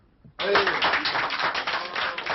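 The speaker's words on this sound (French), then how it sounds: "Ils n'applaudissent pas les propositions du gouvernement, mais bien au contraire la décision de poursuivre l'occupation de cette ANPE." Unemployed protesters occupying an ANPE job centre in Gennevilliers break into dense, sustained applause that starts abruptly and holds steady to the end, with a few voices mixed into the crowd noise.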